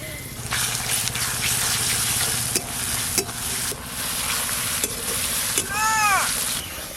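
Ginger-garlic paste sizzling with chopped garden onions in a pan, a continuous hiss with intermittent scrapes and knocks of stirring, and a brief chirp of birdsong near the end.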